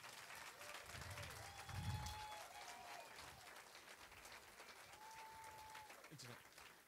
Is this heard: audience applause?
yes